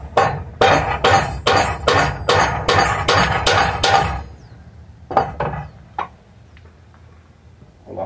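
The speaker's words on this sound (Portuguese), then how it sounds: "Vou estar batendo aqui, ó, pregando." Hammer strikes drive nails into wood while building rebar reinforcement on a construction job, a steady run of about ten loud, evenly spaced blows, then a few lighter, scattered taps after a pause.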